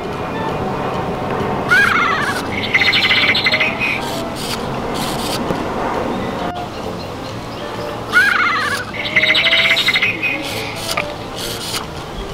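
A Flutter Friends toy bird gives two bursts of electronic chirps and squawks a few seconds apart, with rustling and handling noise throughout.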